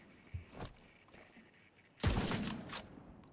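Bursts of gunfire in The Division 2 for a headshot, a couple of quieter shots followed by a loud, close volley of rapid shots, with no talking.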